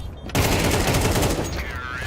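Rapid, loud gunfire in Counter-Strike 2 during an esports semi-final, sounding as a dense, continuous burst of shots that starts abruptly and holds steady for about two seconds.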